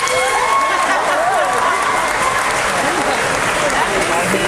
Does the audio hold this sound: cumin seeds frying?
no